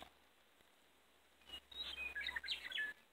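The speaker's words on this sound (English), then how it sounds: "My conversation with the birds." Small birds chirping outdoors in a quiet setting, a cluster of quick, bright tweets and calls starting halfway through and continuing for about a second and a half at moderate distance.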